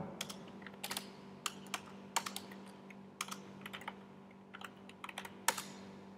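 Computer keyboard typing as code is entered, a quiet, irregular patter of close key clicks in short clusters with brief pauses, with no voices.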